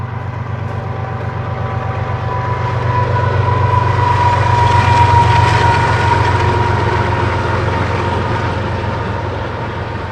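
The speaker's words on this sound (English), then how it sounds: "we have a train coming, so I'm going to stop the video until the train gets by" A train rolls past in the outdoors, its heavy low rumble and droning engine swelling as it nears, peaking midway and easing slightly, loud and steady with no talking.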